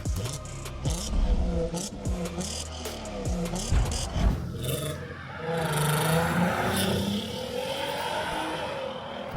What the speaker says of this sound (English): The VR6 swapped Scirocco looks amazing, sounds amazing, and is packing a little bit of a punch